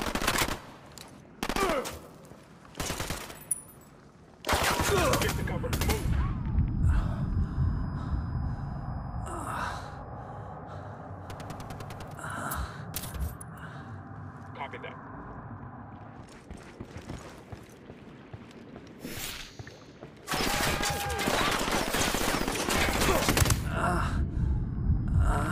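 Gunfire in the Ghost Recon Wildlands video game, with bursts of shots separated by quieter stretches and a heavy, dense barrage near the end, mixed with game ambience.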